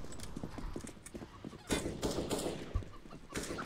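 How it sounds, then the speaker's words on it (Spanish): A chicken clucks in Counter-Strike: Global Offensive, short clucks scattered among footsteps and game noise, with loud gunfire-like bursts breaking in at moments. "¿Una gallina?"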